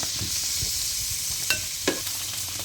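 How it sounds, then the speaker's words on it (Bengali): Prawns fry in hot oil in a pan, giving a steady close sizzle broken by a couple of sharp pops, with no talking. "আমি 1 পিস 30 সেকেন্ডের মতো ভেজে নেব। 30 সেকেন্ড পর আমি মাছগুলো উল্টিয়ে দিচ্ছি।"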